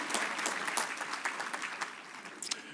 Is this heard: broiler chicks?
no